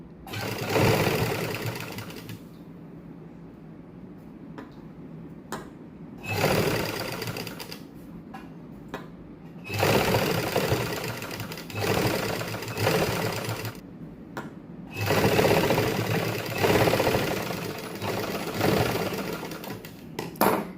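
A sewing machine stitches lace onto a plain sleeve. It runs in several close, rapid whirring bursts, each a few seconds long, separated by short quiet pauses, with no talking.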